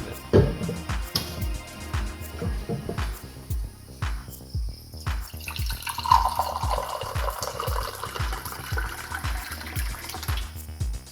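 A glass of water is poured into an empty cup, a splashing stream whose pitch rises as the cup fills, heard over a steady rhythmic background beat.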